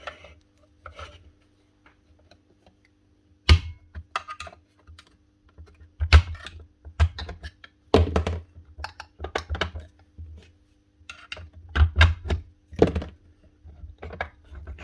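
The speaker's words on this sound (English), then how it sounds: "get a wee screwdriver and just prise up on here" A small screwdriver prises apart the casing of a dropped Makita DKP 180 electric planer, giving close, irregular plastic clicks, scrapes and taps in uneven bursts with quiet pauses between them.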